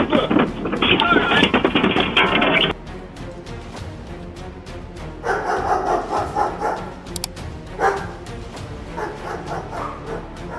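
A family's guard dog barks and yips furiously at a delivery driver dropping off a package, a loud close burst of rapid barking followed by quieter intermittent barks and whimpers.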